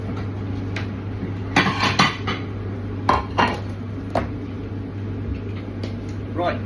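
In a home kitchen on a rainy Suffolk morning, plates and dishes clink and knock in a few sharp, separate clatters over a steady low hum from running appliances.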